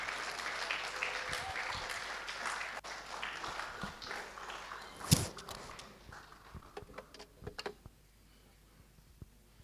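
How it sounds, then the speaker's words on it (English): A seated audience at a formal government handover ceremony applauds to welcome an incoming speaker, a steady wash of clapping that thins into scattered individual claps and then fades. "Please receive him with a hand clap."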